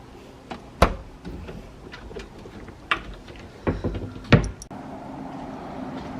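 A mini fridge door in a resort hotel room at Margaritaville Resort Orlando opens and shuts with a few close, distinct clunks and thuds amid quiet room handling noise, with no speech.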